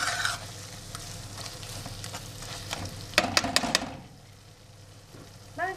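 A spoon stirs and scrapes mashed fried eggplant in a sizzling frying pan, with a quick burst of clattering strokes near the middle, then quieter frying.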